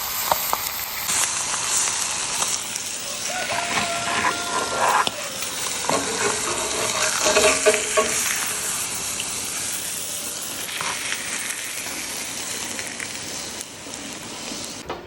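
Blackened channel catfish fillets frying in a hot pan in an outdoor kitchen, a loud, continuous crackling sizzle close up with stirring and scraping noises, no talking.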